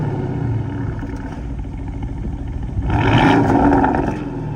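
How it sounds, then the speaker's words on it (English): A Porsche Cayenne S Coupe V8 with a quad sports exhaust idles with a steady rumble, then revs up loud near the end and settles back, heard close with no talking. "Massive quad exhaust on here because Porsche South Africa have ticked that sports exhaust option."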